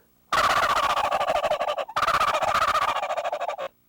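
Mouth call imitating a turkey gobble, with the end of the call cupped: a loud, close, rapid rattling gobble in two long bursts split by a short break, with no talking.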